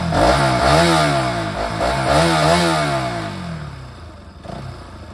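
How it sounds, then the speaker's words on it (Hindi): Close, loud exhaust note of a Bajaj Pulsar RS200 motorcycle revving repeatedly, rising and falling in pitch over several throttle blips before dropping back toward idle. "RS का एग्जॉस्ट साउंड आपको सुनाते हैं गाइस, इसका सबसे प्यारा साउंड है"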